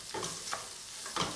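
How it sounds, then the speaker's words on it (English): Chili oil noodles are tossed and mixed in a hot pan with a steady sizzling hiss and a few soft scraping strokes, close by with no talk. "Get that mixed around."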